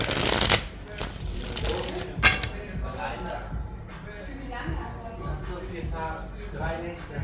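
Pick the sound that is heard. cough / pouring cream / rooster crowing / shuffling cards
shuffling cards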